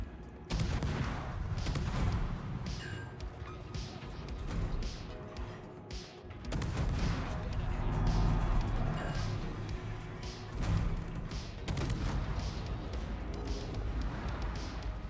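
Dense ship gunfire from World of Warships, with the Kitakaze destroyer's guns pounding a light cruiser in rapid, overlapping volleys of booms and crashes that run loud and continuous throughout.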